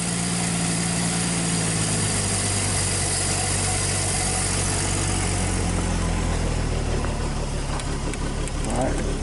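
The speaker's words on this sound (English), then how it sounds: "Let it idle as low as it will idle." The engine of a 1961 Dodge Lancer idles low and steady, a continuous close rumble with vibration throughout, while voices speak briefly over it.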